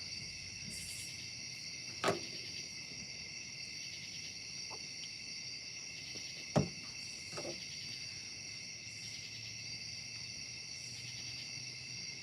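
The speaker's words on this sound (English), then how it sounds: "Katydids, crickets, whatever." Katydids and crickets chirp at night in North Carolina, a steady high-pitched insect drone running continuously and faintly in the background, with a couple of sharp clicks.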